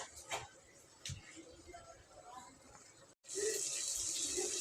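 After a few quiet clinks, water pours steadily and loudly into a pot, a continuous close splashing rush.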